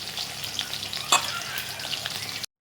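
Battered chicken wings fry steadily in hot oil, a dense continuous sizzle with one sharper crackle burst midway, close and alone before cutting off near the end.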